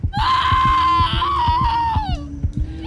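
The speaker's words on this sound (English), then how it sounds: "And then she started screaming." A woman lets out a long, loud, high-pitched scream lasting about two seconds, wavering in pitch before breaking off, over a regular low thumping pulse like a heartbeat in a dramatic audio scene.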